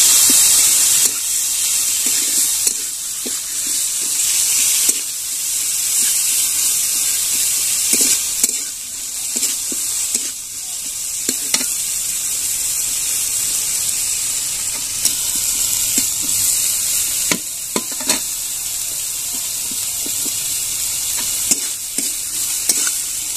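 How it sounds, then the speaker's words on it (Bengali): Ginger, garlic and onion paste frying in oil in a pan for a Bengali prawn malai curry, with a steady close sizzle and hiss under repeated stirring scrapes, no talking. "এখানে আমি আদা রসুন পেঁয়াজ বাটা দিয়ে দিব।"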